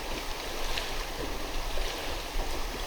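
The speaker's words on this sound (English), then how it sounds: "But look at these waves." Waves lapping on Garnet Lake in the Adirondacks, a steady soft wash of water against a kayak and shore, faint and continuous with some wind.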